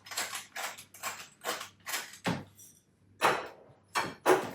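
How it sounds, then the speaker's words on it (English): Freshly cracked black pepper ground by hand over a chicken rub, heard as a series of close, evenly spaced ratcheting grinds, about eight bursts with short pauses between them and no talking. "I'm going to just put in some freshly cracked black pepper"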